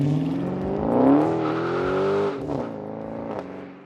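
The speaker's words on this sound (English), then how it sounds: "it launches this thing to 60 miles an hour in just about 4 seconds" A 2020 Dodge Charger Scat Pack's 485-horsepower V8 accelerates hard, its deep rising roar climbing through the revs before a shift and a lower, rumbling pull continues, loud and close.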